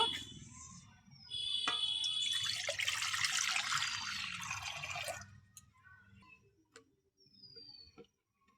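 Water pours into a pan for steaming an egg batter, a bright splashing stream for several seconds, followed by a few faint clinks and drips in a quiet kitchen.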